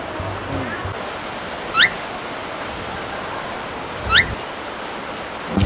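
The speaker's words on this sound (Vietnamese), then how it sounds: "Ngày hôm nay mưa rồi." Rain falling steadily outdoors, a constant hiss of drops on surfaces, with two brief squeaky chirps breaking through the wash.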